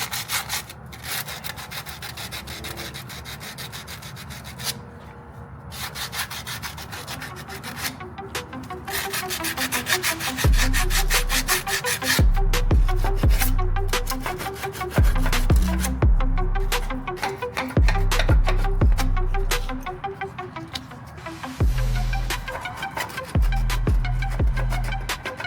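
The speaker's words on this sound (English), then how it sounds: "So I'm having to use something really abrasive to cut down to it." A harsh abrasive tool grinds through hardened melted material on the front frame notch of a G-body El Camino, producing a continuous loud rasping drone with repeated heavy pulses and brief pauses, close up and without talk.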